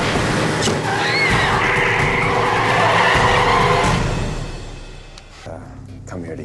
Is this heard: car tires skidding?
yes